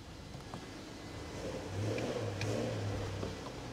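A BMW X5 4.6is with a manual gearbox idles roughly with the check engine light on, then the low rumble rises steadily as it reverses out into a driveway, with faint rustling nearby.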